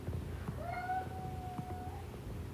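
A male house cat throws a tantrum after being corrected, letting out one long, drawn-out meow with a rising then sustained pitch, fairly close over a quiet indoor background.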